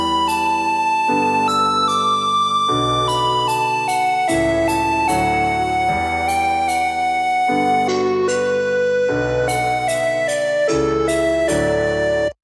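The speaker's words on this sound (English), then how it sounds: "this is what that melody would sound like if I would just program it in MIDI, and I just used Serum for this instance" A bright synth melody from the Serum plugin, programmed in MIDI in Ableton, plays with sustained chords, even and rigid note changes, loud and alone throughout.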